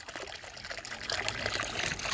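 Solar and electric fountain pumps run side by side in a small water basin, making a close, steady trickle and splash of falling water that swells slightly partway through.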